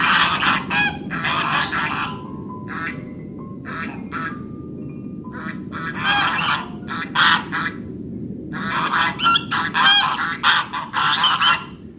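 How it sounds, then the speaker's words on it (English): Geese honk and quack loudly in repeated irregular bursts, a close flock calling over steady low rumbling background noise from an outdoor setting. "Then move on, past the same geese."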